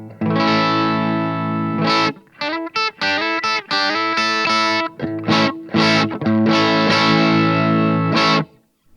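Distorted electric guitar from a Yamaha Revstar Element RSE20 with Alnico 5 humbuckers: sustained chords followed by a run of choppy, rhythmic stabs and short bursts, then a final held chord, loud and close with no talking.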